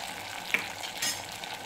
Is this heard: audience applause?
no